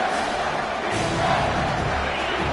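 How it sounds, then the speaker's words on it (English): A football stadium crowd roars on third down, a dense, continuous wall of noise that holds steady and loud throughout. "this crowd is tearing the lid off this place"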